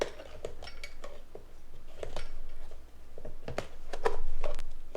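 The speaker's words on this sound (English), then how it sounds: "measure out 8 tablespoons of brown sugar, and you're going to just sprinkle that brown sugar on top of this" A metal measuring spoon scoops brown sugar for a sweet cream cheese danish, giving irregular close clinks and scrapes against a container, with soft grainy rustles between the taps.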